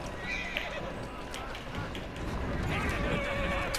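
A horse in Assassin's Creed Syndicate whinnies and clip-clops along, with game mechanisms and creaks mixed in and a voice talking over it.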